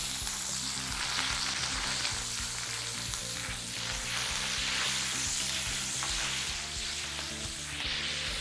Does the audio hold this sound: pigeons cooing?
no